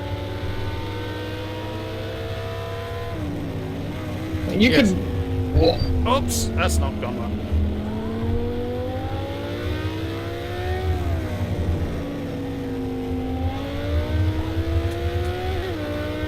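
A racing car engine revs in a racing video game, a fairly quiet, rising and falling engine drone with gear changes throughout, a brief clatter of impact midway, and someone talking over it.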